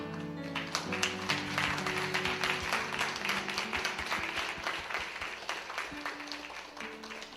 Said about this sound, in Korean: 신임 목자와 분가 목자가 인사하고 내려갈 때 다시 한번 큰 박수 부탁드립니다.